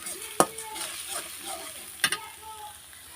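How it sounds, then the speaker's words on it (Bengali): Onion paste fries in hot oil and is stirred. A soft sizzle runs under two sharp scraping clacks of the spoon against the pan. "পেঁয়াজটা আমি 1 মিনিটের মতন এভাবে ভেজে নেব।"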